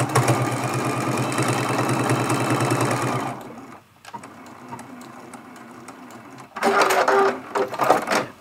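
A sewing machine stitching an appliqué Christmas tree ornament runs in a steady fast whir, stops for a few seconds, then runs again in a shorter burst.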